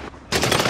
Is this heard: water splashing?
no